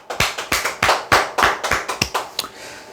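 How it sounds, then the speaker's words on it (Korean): A small group claps in short bursts of quick, sharp hand claps at close range, with an uneven rhythm that fades toward the end, at a sales coaching talk; no one speaks. "박수 한번 칩시다"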